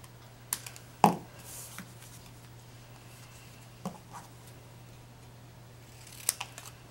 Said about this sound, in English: I'm just going to take my paper snips and trim a little bit off of one side.